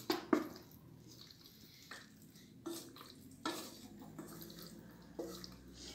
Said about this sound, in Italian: Ora Buttiamo la pasta.